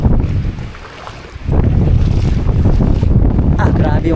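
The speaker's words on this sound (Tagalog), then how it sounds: "Grabe yung hangin ngayon. Talagang parang bagyo." Strong stormy wind buffets the microphone as a loud, continuous roar with gusts, outdoors near a place where many boats lie abandoned.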